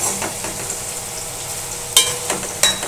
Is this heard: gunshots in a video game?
no